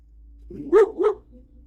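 A farm dog on a rural property gives two quick, close barks, a low double woof standing out against a quiet background.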